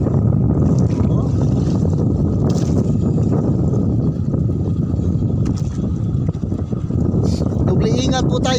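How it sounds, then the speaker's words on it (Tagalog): Strong wind roars against a dive boat at sea in rough weather with big waves, a constant loud buffeting with water wash, while someone talks over it. "medyo malaki po yung alon ngayon at saka malakas po yung hangin"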